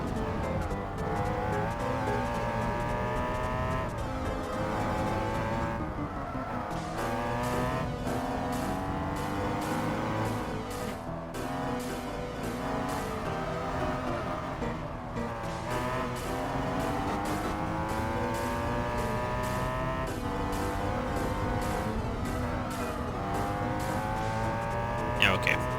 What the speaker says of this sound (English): Not a huge fan of the sound of the engine, if I can be honest.